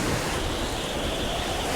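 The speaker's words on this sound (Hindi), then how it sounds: "ये तो बड़ा ही जोरदार तूफान है।" Stormy sea waves in an anime scene roar as a continuous broad wash of surf noise, steady and enveloping with no distinct breaks, at moderate loudness and without any voices.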